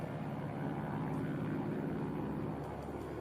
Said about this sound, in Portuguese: O Saratoga é um avião monomotor a hélice.